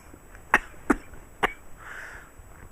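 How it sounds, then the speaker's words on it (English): Three short, dry coughs from one person during an indoor interview about e-cigarettes, spaced about half a second apart and fairly close, followed by a soft breathy sound, with no speech over them. "Sorry, I'm starting to cough again."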